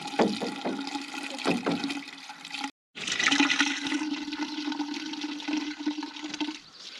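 Water gushes steadily from a rain barrel hose into a hole in the ground on a cattle farm, a close, continuous splashing rush with a brief cutoff partway through before resuming.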